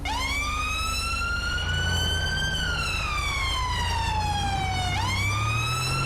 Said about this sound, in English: I'll put my sirens on